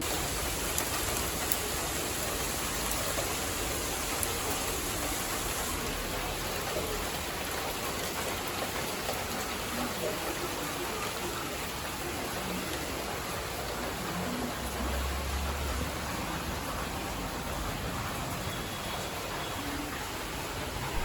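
Steady rain falls outside a balcony, a dense continuous hiss of drops on surfaces that stays even and moderately loud throughout, with no voices.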